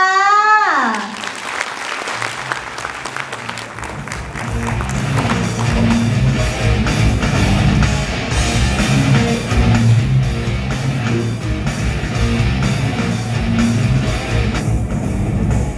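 An audience of school students and parents claps after a school puppet play, a dense sustained patter that builds after a short rising musical tone at the start and continues loudly to the end.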